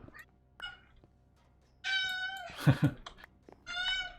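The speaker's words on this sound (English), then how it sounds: "my cat apparently is very interested in this" A pet cat meows loudly and close by several times in quick succession, with soft clicks and rustles in a quiet room between the calls.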